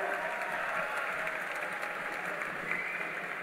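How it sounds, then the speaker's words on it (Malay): Dense, sustained applause fills a hall at a Barisan Nasional youth wing launch rally, an even, steady roar of many hands clapping with no talk over it. "Kita berikan tepukan penghargaan kepada mereka semua."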